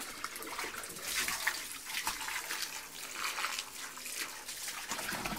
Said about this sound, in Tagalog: Flowing lang siya, walang sara-sara yung tubig kasi ang tubig is fresh from the mountain.